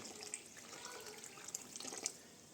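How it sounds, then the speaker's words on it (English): Steady running water streams into a bowl of ọkpa mixture with light splashing and a few drips, continuous and close, no voices. "I'll add more water and dissolve to the desired consistency"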